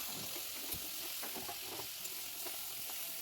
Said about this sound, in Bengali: পেঁয়াজটা ভাজা হয়ে গেছে চিকেনটা এবার দিয়ে দিচ্ছি আবার